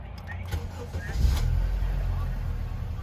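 A first-generation Acura TSX engine starts and settles into a low, steady idle, heard close up with a brief clatter at ignition and a voice in the background.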